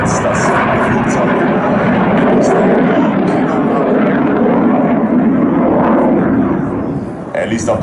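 A Eurofighter jet flying during an air show interception display at ILA 2018 in Berlin, a loud, steady roaring engine rumble that holds throughout and eases slightly near the end.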